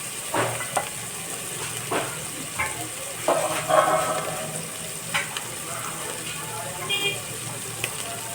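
Fresh green peas sauté in a pan for peas rice, giving a soft sizzle broken by scattered stirring scrapes and clinks, close by, with some faint voice activity beneath.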